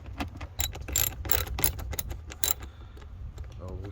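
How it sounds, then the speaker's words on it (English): Socket set ratchet tightening a bolt on a pond biofalls faceplate, a rapid series of close, sharp clicking bursts with short pauses between strokes. "get a socket set that's going to make your life so much easier than trying to do it with 2 pairs of pliers."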